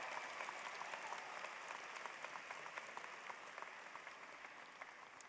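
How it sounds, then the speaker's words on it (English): Sustained applause from a commencement ceremony crowd, many hands clapping evenly and fairly distant, with a few sharper individual claps standing out as it slowly eases. "can we get a round of applause for the friends and families who have supported you along the way"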